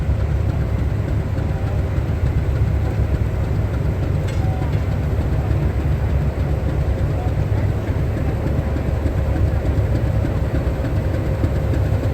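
A YDM4 diesel locomotive rumbles nearby as it passes, in a low, steady drone, its engine running continuously without a break.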